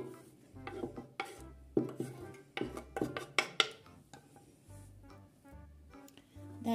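Soft rustling and scattered clatter as chopped greens for a salad are tipped into a pot, with light scraping and tapping against metal, close up and fairly quiet.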